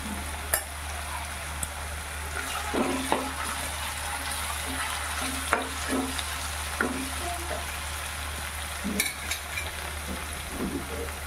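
Cumin seeds sizzle in hot oil in a pan, a soft steady frying hiss with scattered pops and light clinks of a spoon stirring.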